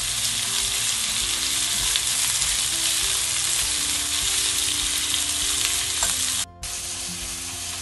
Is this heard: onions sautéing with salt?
yes